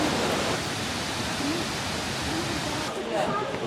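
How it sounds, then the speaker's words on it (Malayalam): Multi-tiered Wulai waterfall in Taiwan, a dense continuous roar of falling water that stays steady and loud, heard from nearby with faint voices in the background. "പല തട്ടുകളിലായിട്ടാണ് വെള്ളം വീഴുന്നത്"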